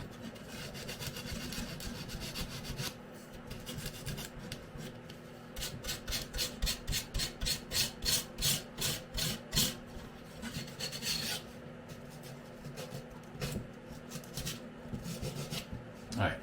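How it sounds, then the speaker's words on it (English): Close, rhythmic rasping of hand sanding on wooden coasters, strokes speeding into a quick back-and-forth run before slowing again, over a low background hum. "if I have to do much more sanding than that, I'll just pause the video"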